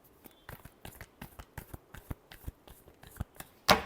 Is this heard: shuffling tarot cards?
yes